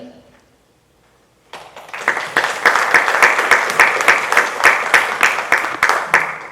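Pageant audience breaks into sustained applause for the contestants after a brief quiet pause, many hands clapping densely and steadily, fairly close and loud, with a few faint cheers mixed in.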